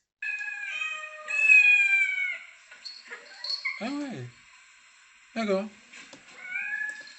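A neighbor's cat meows several times in clear, close, drawn-out calls, with a brief spoken remark in between.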